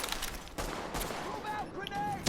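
Bursts of automatic gunfire from The Division, rapid shots fairly loud and close, with someone talking over the shooting throughout.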